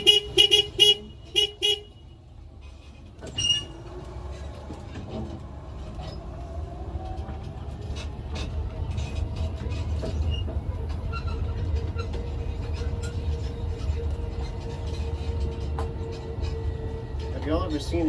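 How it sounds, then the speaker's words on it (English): Open tram ride at the Poverty Point World Heritage Site: a steady low rumble of the moving vehicle with engine hum and faint tones, after a few brief beeps and a clunk at the start, with people talking over it. "Keep all your arms, legs, fingers, and toes inside the tram"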